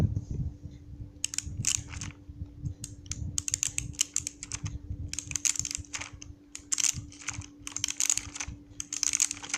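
Rapid clicky key presses from a mechanical keyboard, typed in bursts at close range, with soft murmuring voice underneath.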